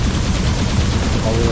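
Rapid gunfire in the video game Arc Savior as turrets are shot at, a dense, continuous loud burst of booming shots with no pauses throughout.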